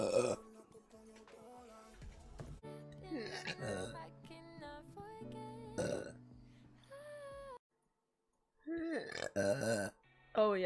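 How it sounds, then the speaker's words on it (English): Loud, drawn-out burps from a young woman, several in a row with short gaps and a brief silence, with her talking and laughing between them close to the microphone. "my burps kind of be on point right now"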